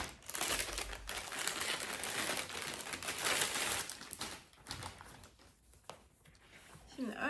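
Crinkly plastic bags rustle and crumple close by, a busy crackling that thins out toward the end.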